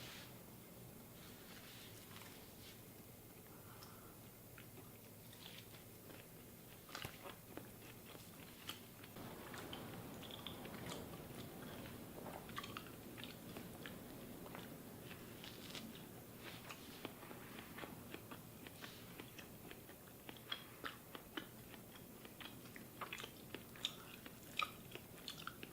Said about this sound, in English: Just for the sake of digestion, I do usually try to chew it pretty well.